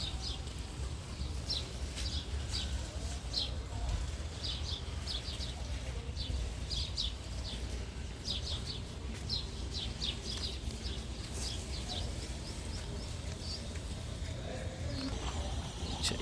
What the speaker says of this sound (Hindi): You can listen the sounds of the birds coming up from background.